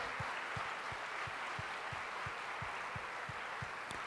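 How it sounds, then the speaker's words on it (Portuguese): A church congregation gives a round of applause, a steady wash of clapping with low rhythmic thumps keeping an even beat beneath it. "Vamos dar uma salva de palmas para esses irmãos?"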